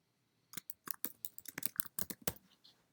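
Rapid, uneven keystrokes clatter on a computer keyboard, close and crisp, in a burst of typing after a short quiet start with no voices.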